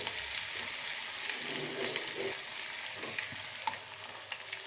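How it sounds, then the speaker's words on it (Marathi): Chopped onion and crushed garlic fry in hot oil with cumin and mustard seeds for a cabbage and chana dal curry, giving a steady close sizzle and crackle throughout, with no talking. "कांदा लसूण चांगला लाल होईपर्यंत परतून घ्यायचे"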